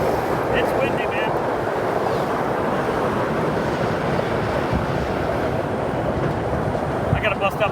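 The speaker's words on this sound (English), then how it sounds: "It's windy, man." Strong wind buffets the microphone in a steady, loud roar beside I-10 at Port Arthur, Texas, continuous and rumbling throughout with no clear voices.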